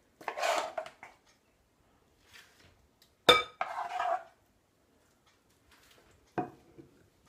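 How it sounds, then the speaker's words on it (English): A big spoon dolloping and spreading custard onto a trifle: a few soft, separate scrapes and clinks against the dish, one sharper tap in the middle, with quiet gaps between. "with a nice big spoon, we will just dollop that custard onto there and spread it out so it's even"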